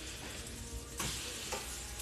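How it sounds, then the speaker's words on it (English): Steady crackling sizzle of meat frying in a hot pan, with a couple of louder hissing bursts as food shifts. "So I got that sizzling."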